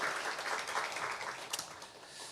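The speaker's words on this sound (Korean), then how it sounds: "우리 하나님께 영광의 박수를 올려드립니다." A church congregation at Sunday worship applauding, a soft, dense patter of many hands spread through the room, fairly distant and steady for a couple of seconds.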